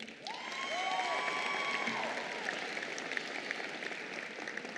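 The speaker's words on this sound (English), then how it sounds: "So graduates, would you give them a round of applause?" Audience applause at a 2016 high school graduation ceremony, a steady sustained clapping from a large crowd in a hall, fairly distant and even, with a brief tonal whine over the start.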